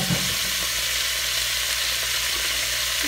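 Carrots and onions frying in rendered short rib fat in a pot for red wine braised short ribs, a steady close sizzling hiss that holds evenly throughout without talk.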